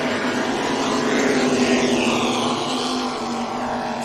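The offshore superboat Hornet, running twin Mercruiser 6 drives, roars past on Lake Macquarie during an Australian Offshore Superboats race, a loud and steady broadband engine drone that swells slightly mid-pass.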